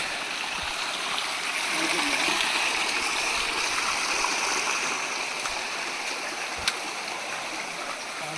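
A small waterfall stream at Aluru Kona rushes steadily and continuously, a close, even wash of flowing water with an occasional faint knock.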